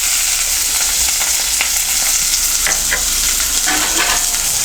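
Green chillies and onions dropped into hot oil with curry leaves and dried red chillies for a banana tomato curry, a loud, continuous sizzle and spatter with scattered crackles and pops, no voices.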